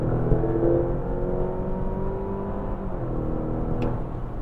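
A Mazda CX-80 e-Skyactiv PHEV plug-in hybrid accelerates under kickdown, its engine and electric motor giving a steady, rising drone heard from inside the cabin, with no talk over it.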